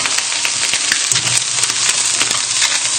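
Fish skin frying in a hot pan gives a loud, steady, dense sizzle with constant crackling and no pauses.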